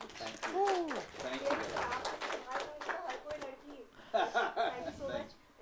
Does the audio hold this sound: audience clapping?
yes